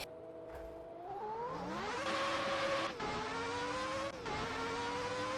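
A racing car engine in a video game, modded for the 1990 Interlagos circuit, revs up through the gears, pitch climbing and dropping at each shift, a continuous mechanical roar with no talking.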